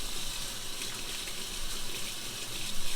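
Hot water running from a tap while filter O-rings are cleaned after maple syrup filtering, a steady close hiss of flowing water without pause and with no talking.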